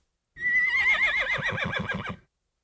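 Horse neighing as a sound effect, one loud close whinny that starts high and shrill, then drops into a shaking, quavering descent before cutting off, with silence on either side.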